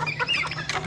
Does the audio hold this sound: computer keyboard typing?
no